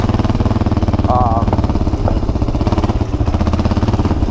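A Yamaha XT 350 motorcycle being ridden gives a loud, steady, buzzing engine drone with a fast regular pulse, close by and continuous throughout, with slight shifts in pitch.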